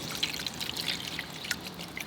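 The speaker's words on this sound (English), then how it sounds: "And then I just take this and I just will fill this up with water." Tap water trickling from an orange juice container, a soft continuous pour with small splashy drips, faint and close, with no one speaking.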